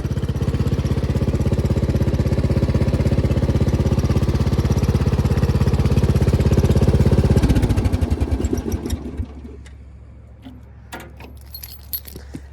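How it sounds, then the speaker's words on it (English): Lawn tractor mower engine runs loudly and steadily at close range for several seconds, then cuts off and sputters down, leaving quiet rattles and faint clinks. "I don't think that lady liked the lawnmower."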